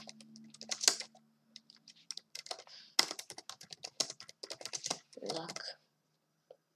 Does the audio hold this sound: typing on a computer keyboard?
yes